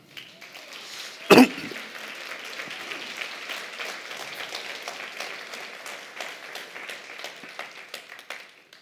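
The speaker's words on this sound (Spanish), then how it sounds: "Denle un aplauso al Señor." Congregation applause in a church service, a sustained wash of clapping from many hands with a sharp close knock or cough near the start, steady and moderately loud throughout.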